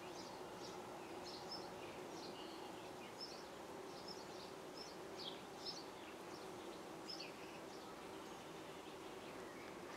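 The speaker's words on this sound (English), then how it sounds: "see if you can hear the bees." Bees hum steadily in a flowering laburnum tree in a June garden, a faint continuous drone with distant bird chirps scattered above it and low background traffic.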